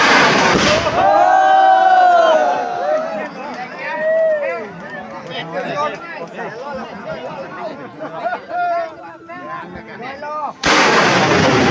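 Bamboo rockets launch at the Bun Bang Fai rocket festival at Ban Huai La, Ban Hong, Lamphun: a sharp blast opens, a crowd shouts and chatters excitedly throughout, and a second loud burst closes.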